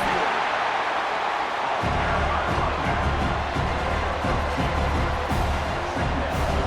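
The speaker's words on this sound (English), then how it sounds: "this home crowd is fired up and ready to make a difference today" The home crowd at a college football game between Syracuse and Notre Dame roars in a dense, continuous wall of noise at stadium scale, with a deep rhythmic pulse joining in partway through.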